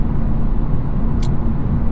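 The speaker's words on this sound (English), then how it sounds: "Road noise actually not terrible for this concrete section of highway." Steady road noise inside a Hyundai Elantra N with DCT cruising on a concrete highway section with the sunroof closed, a continuous dense low rumble and tire roar with a brief faint high tick midway.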